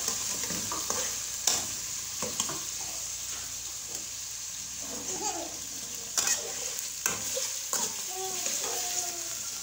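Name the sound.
beef frying and being stirred in a karahi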